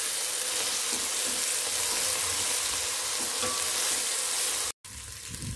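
Tomatoes and green chillies sauté in a pan for a Tamil chicken curry, giving a steady, close sizzle and crackle throughout, with a brief dropout near the end before the frying resumes.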